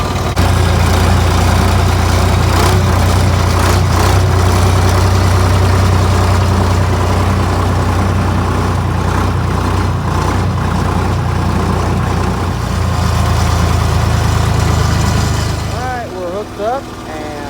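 A tractor engine idles steadily in a hay field, a loud low rumble that holds constant for most of the stretch before easing near the end.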